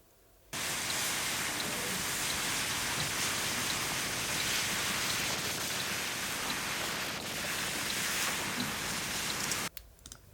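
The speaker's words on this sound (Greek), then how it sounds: "Ο ήχος βέβαια της θάλασσας δεν είναι κάτι ποιοτικό" Broadband wash of sea waves after noise-reduction processing, a steady dense hiss that starts abruptly and holds evenly at a consistent level for about nine seconds before cutting off, with no voices.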